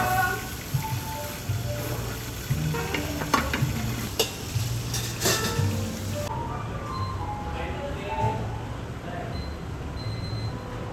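Teriyaki chicken is stirred on a sizzling hot plate in a ramen restaurant. A continuous loud sizzle runs throughout, broken by repeated scraping strokes, with faint voices in the background.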